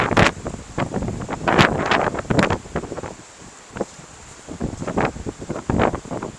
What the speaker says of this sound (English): Holy fuck, it's windy.